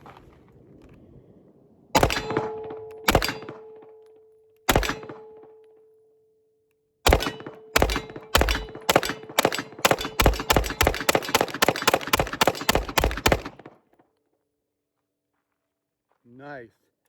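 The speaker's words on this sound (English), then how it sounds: "So here goes some hollow points. Let's run these." Pistol shots from a steel S&W M&P9 with a compensator firing hollow point rounds: a few spaced shots, then a rapid string of about fifteen sharp reports, loud and close.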